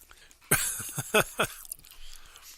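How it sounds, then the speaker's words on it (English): Someone eating Reese's Puffs cereal crunches close to the mic, with a sharp opening bite followed by a few distinct chewing crunches that fade into quiet mouth noise. "We're eating cereal."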